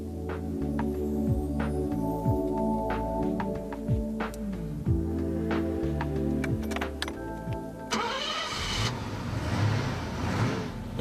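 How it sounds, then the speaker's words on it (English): A Mercedes 280 SE Cabriolet engine hums steadily and fairly close with a deep, smooth drone. Its pitch shifts slightly through the run, and the sound grows rougher and more throbbing near the end. "Its darkly humming, running noise was reminiscent of top-range American cars."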